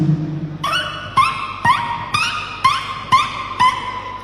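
A mimicry contestant at a state school arts festival imitates squeaky children's shoes, making about eight bright chirping squeaks at an even, footstep-like pace after a short low hum.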